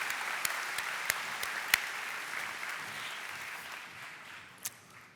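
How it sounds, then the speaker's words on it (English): A gala audience applauds honorees, a broad continuous patter of many hands with a few sharper nearby claps standing out, holding steady before slowly tapering. "please join me in a huge round of applause for all of them."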